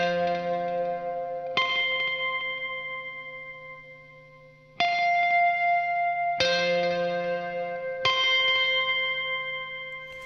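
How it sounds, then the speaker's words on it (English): Electric guitar plays simple ringing harmonics through a delay in a rock song arrangement: four or five bell-like chimed notes, each struck sharply and sustained with repeating echoes, played alone and fairly soft. "a guitar just playing some really simple harmonics. It kind of adds a really nice ambient sort of sound, and it's also running through a delay"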